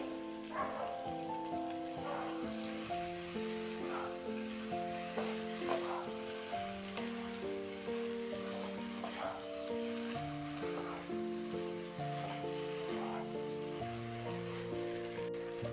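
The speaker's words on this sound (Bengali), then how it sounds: "সেই সবজিগুলো আমি এখানে অ্যাড করে এবার কিছুক্ষণ একটু নাড়বো মশলার সাথে" Fried vegetables tossed with spices in a pan give a steady sizzling hiss with faint stirring scrapes, partly buried under loud background music throughout.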